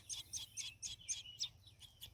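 A baby bird gives a quick run of about seven or eight high, thin chirps in a steady rhythm, faint and close, with no other sound around them.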